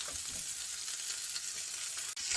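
A thick prime wagyu ribeye steak sizzles in a pan with a loud, steady hiss and crackle close by, briefly interrupted near the end, with no talking.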